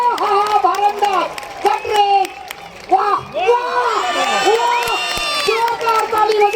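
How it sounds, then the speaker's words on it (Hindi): Crowd at a women's wrestling dangal in Indore cheers and shouts loudly throughout, with excited voices and some clapping mixed into a dense, steady roar. "जोरदार ताली बजाए।"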